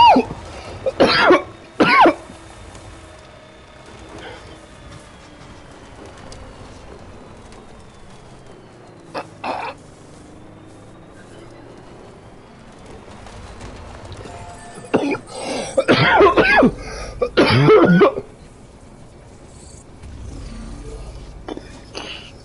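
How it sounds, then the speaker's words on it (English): Someone coughs and clears their throat in harsh bursts, a pair of fits near the start, a single one midway and a heavier cluster later, with quiet stretches in between. "Coughing."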